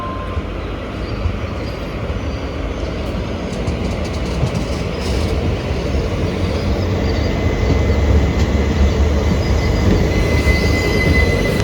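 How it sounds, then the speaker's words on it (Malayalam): Malabar Express hauled by a WP4 locomotive pulling away from Trikaripur railway station, a steady low rumble of wagons and rolling wheels building slightly in loudness, with faint clatter and a thin high squeal, no talking. "അങ്ങനെ മലബാർ എക്സ്പ്രസ് ഇവിടുന്ന് ഡിപ്പാർട്ടായിരിക്കുകയാണേ"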